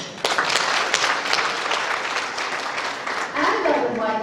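Audience clapping for the women at a university gathering, a loud burst of dense applause that starts abruptly and carries on steadily, with a voice coming in over it near the end.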